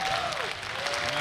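Boxing crowd applauding after a brave fight, a steady, dense wash of clapping and cheering that fills the hall, with faint commentary voices blended underneath.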